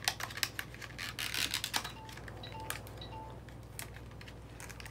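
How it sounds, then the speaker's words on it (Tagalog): Cellphone low-battery alert sounding as three faint, short electronic beeps evenly spaced over a few seconds, heard indoors beneath louder rustling and clicking of plastic packaging being handled during an unboxing. "Narinig nyo yun? Merong naglobat na cellphone."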